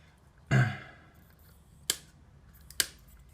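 Paper snipped with scissors while cutting out a piece of a paper model of the Mathematical Bridge: one fuller cut followed by two short, sharp snips, close and quiet, with no talking.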